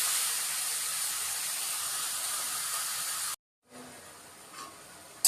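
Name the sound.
ridge gourd frying in a pan with black cumin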